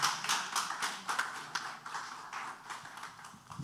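Scattered applause from an audience at an awards ceremony in an auditorium, a handful of clear, uneven claps close by that thin out over a few seconds, with no voices over them.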